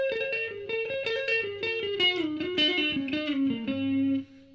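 Electric guitar played through a Reville Q90 distortion pedal with chorus, a sustained melodic line of overlapping distorted notes that swirl slightly, loud and close, with no talking.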